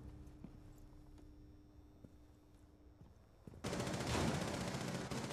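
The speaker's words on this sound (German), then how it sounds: "Hinter dir die Schüsse." Gunshots in the video game Rainbow Six Siege: faint, evenly spaced distant shots ticking in a steady rhythm, then a sudden louder, noisy burst of action close by.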